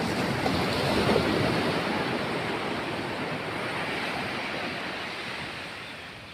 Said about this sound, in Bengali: আর ঝাউবন আর জল, সমুদ্রের জল, সমুদ্রের ঢেউ, সমুদ্রের আওয়াজ, দারুণ নির্জন।